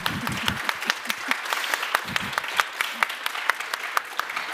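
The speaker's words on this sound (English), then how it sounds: "I think we should end up with a warm hand of applause for our panelists" An audience applauds panelists at the close of a conference session with a steady round of clapping lasting several seconds, fairly close and moderately loud, no voices over it.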